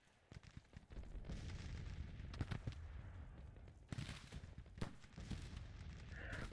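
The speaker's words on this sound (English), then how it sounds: "Both of these artillery are still opening fire." Civil War artillery cannons in Grand Tactician boom repeatedly in irregular bursts, loud and close, amid rumbling battlefield noise with no talk.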